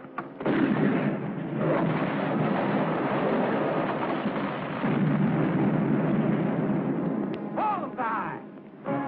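Cannon fire from a Civil War battle scene in a 1951 film, with loud, rumbling booms rolling almost continuously for several seconds, a short break, then more heavy blasts, with a brief shout at the end.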